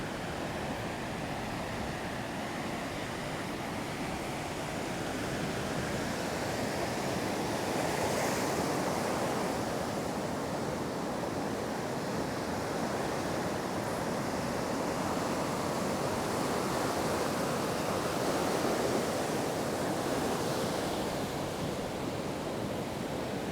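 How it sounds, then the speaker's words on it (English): Ocean surf on a South Florida beach at Boca Raton: continuous roaring waves rising and falling, loud and near, with wind buffeting the microphone and no voices. "This is the craziest section of South Florida beach I've ever seen."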